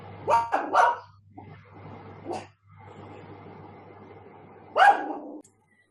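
A dog barks indoors, likely at critters in the yard: a quick pair of sharp barks, another single bark, then a final one after a pause, set over a faint steady household hum.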